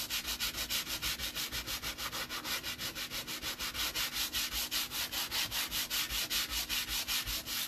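Clear wax being rubbed into painted fabric by hand, a steady rhythmic scrubbing with even back-and-forth strokes, close and continuous with no talking.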